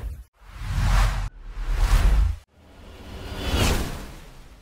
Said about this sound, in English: These are whooshes.